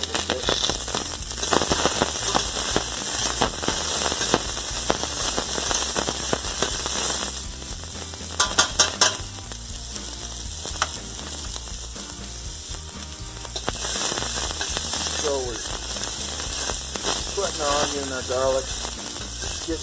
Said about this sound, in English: Now I'm going to take about a half of a small onion and throw that right in the pot.